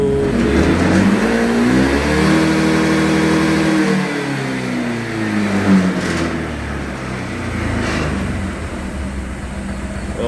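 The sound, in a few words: Honda PCX 160 scooter engine accelerating in a top speed test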